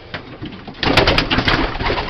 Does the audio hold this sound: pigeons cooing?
yes